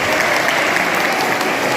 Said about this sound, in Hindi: जोरदार तालियां 8B के लिए